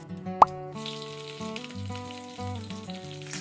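Panch phoron and slit green chillies hit hot oil with a sharp plop, then a steady, close sizzle runs throughout, with tonal background music playing over the frying.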